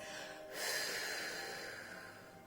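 A single long, breathy exhale during a Pilates breathing exercise, soft and close, swelling briefly then fading gradually.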